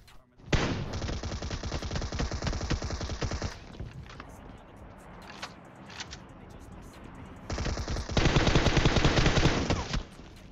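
Rapid automatic gunfire in the mobile battle royale game PUBG Mobile, two long loud bursts of dense rattling shots separated by a quieter gap with a few scattered sounds.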